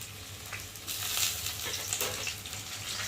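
Ginger paste, garlic paste and tomato frying in a pan for a tengra fish curry, with a steady close sizzle and crackle that swells slightly as the spices are stirred.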